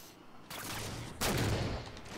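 Gunfire from a weapon in the video game Halo 4, two loud shots a moment apart, the second heavier blast trailing into a brief ringing tail, with no voices present.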